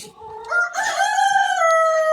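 A backyard rooster crows a long, clear cock-a-doodle-doo up close, preceded by brief clucking from hens in the coop.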